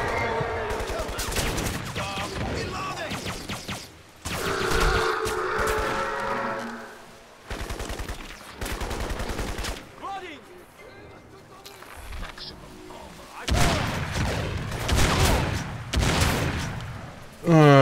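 Gunfire in the shooter Crysis, repeated bursts of automatic and single shots in loud clustered volleys separated by quieter gaps, with someone speaking German between and over the shooting.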